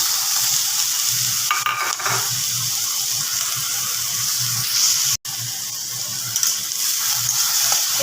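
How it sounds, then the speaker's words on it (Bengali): Onion and capsicum fry steadily in hot oil, a dense continuous sizzle with occasional stirring scrapes, close and loud, broken by one very brief dropout near the end, while an aloo filling for momos is being made. "আমি গরম তেলের মধ্যে দিয়ে দিয়েছি পেঁয়াজ এবার দিয়ে দেবো ক্যাপসিকাম"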